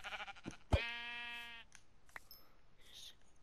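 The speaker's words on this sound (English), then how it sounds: "just kill the sheep" A sheep in the video game Minecraft gives a single clear, close bleat among other soft game sounds, with a few brief clicks and thuds around it.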